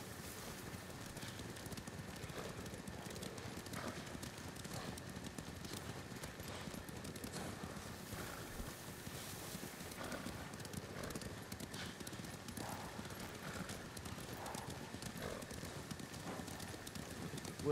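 Steady clip-clop of horse hooves in the video game Ghost of Tsushima throughout, moderately loud, with a faint whinny and rustling ambience in the background.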